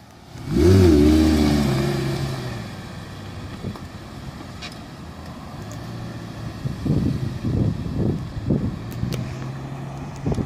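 A Lamborghini Gallardo Spyder fires off a loud, rising engine rev close by as it leaves a hotel, then settles into a rumbling drive away with a few further throttle blips, growing fainter.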